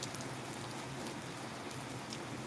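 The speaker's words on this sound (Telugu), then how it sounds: "జస్ట్ చిరుజల్ల వర్షం అయితే కురుస్తుంది" A light drizzle of rain falling in a village, a steady soft hiss of drops throughout, fairly faint and with no voices.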